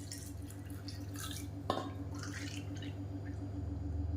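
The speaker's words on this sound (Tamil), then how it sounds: "ரெண்டு கப் அளவுக்கு பால் சேர்த்துக்கலாம்" Two cups of unboiled milk are poured into a pot while making semiya payasam, giving faint liquid splashing and trickling over a low steady hum, with one sharper splash partway through.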